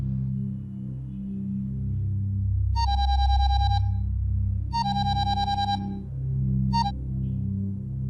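A telephone rings in three bursts of a bright electronic trill, the last one cut short, over a steady low room hum with no talking.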